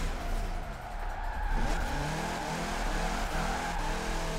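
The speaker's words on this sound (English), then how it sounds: "It does like a little bit lower speed drifting." A Ford Ranger Raptor pickup with its factory engine drifts sideways at low speed, its tires giving a steady squealing whine over the engine's revving drone, moderately loud and continuous throughout.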